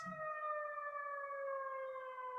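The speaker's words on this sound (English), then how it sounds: "It's an ambulance." A steady, loud siren wail holding a gently falling pitch, like an ambulance passing nearby, with no talking.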